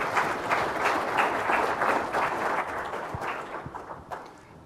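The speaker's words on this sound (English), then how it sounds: "a big round of applause" Audience applause at a transportation conference, a steady wash of many hands clapping that holds for several seconds, then thins into scattered claps as it fades out.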